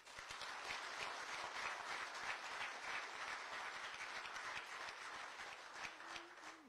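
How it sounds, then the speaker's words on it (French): Steady applause from an audience at an official address, a continuous wash of clapping held at a fairly faint, distant level with no talk over it. "Je souhaite qu'on les applaudisse."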